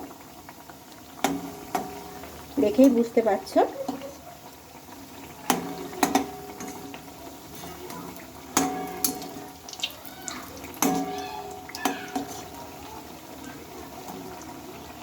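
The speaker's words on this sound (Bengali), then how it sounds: "বিস্কুটগুলোকে এখন আমি উল্টে পাল্টে লাল লাল করে ভেজে নেব" Rice-flour biscuits frying in hot oil give a soft steady sizzle with scattered crackles and pops, quiet overall, under someone speaking.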